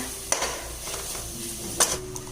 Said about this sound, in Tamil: இப்போ இந்த கலவையை நம்ம நல்லா பெரட்டி விட்டுறலாங்க.